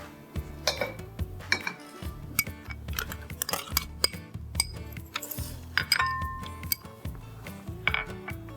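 A metal spoon clinks and scrapes against a bowl as ginger and garlic are added, with a run of irregular close taps and knocks at moderate volume.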